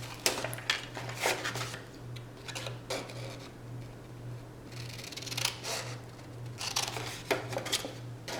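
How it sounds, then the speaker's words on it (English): Scissors snipping through scored card stock for a handmade autumn twist-and-fold card, a run of quiet, close, irregular cuts over a steady low electrical hum. "I just cut right down the middle of my score marks"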